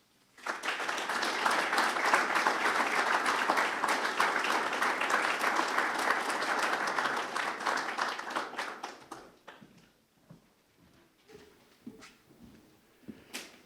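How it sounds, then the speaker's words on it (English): A crowd at a Veterans Day ceremony gives a sustained round of applause that swells quickly, holds, then thins out into a few scattered claps before fading. "today, give them a final round of applause"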